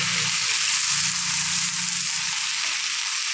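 Fern (pako) sautéing in a pan gives a steady, close sizzle and crackle that runs throughout, with faint stirring underneath.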